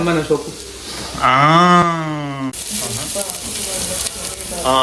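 Onions with salt fry in a pan with a steady sizzle throughout, while someone talks over it and music plays part of the time.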